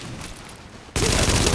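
A shotgun fires in the video game The Division during a stronghold fight, a sudden loud, close blast that breaks over quieter background noise and holds as a dense burst of gunfire.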